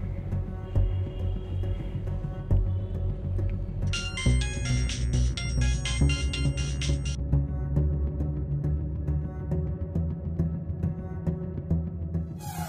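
A mobile phone rings on an outgoing call, a repeating electronic ringtone melody playing over soft background music in a Bengali TV drama scene, with a brighter burst of tones partway through.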